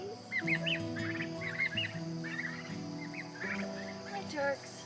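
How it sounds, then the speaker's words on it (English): Farmyard turkeys gobble and chatter in a busy overlapping flock, fairly close, with calls rising and falling throughout. "Aren't those turkeys getting bigger?"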